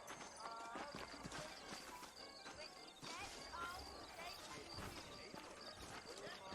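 Horse hooves clip-clopping in the Western video game Red Dead Redemption, a quiet run of hoof beats mixed with a whinny and other game sounds, while a voice talks over them.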